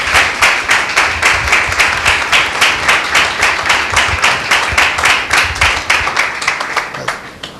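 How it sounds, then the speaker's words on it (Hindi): A church congregation at a Sunday meeting bursts into loud, sustained applause to welcome a visiting preacher, dense rapid claps filling the hall for several seconds before tapering slightly at the end. "एक जोरदार ताली देंगे परमेश्वर के नाम की महिमा के लिए"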